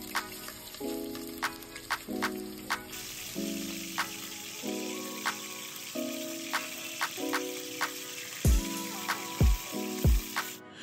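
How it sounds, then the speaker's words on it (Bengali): Cut potatoes and brinjal fry in hot mustard oil in a kadai, giving a soft, continuous sizzle with occasional drips and pops. A gentle stepped melody plays underneath. "কড়াইতে সর্ষের তেল পরিমাণ মতো দিয়ে গরম করে কাটা আলু আর বেগুনগুলোকে ভেজে তুলে রাখুন"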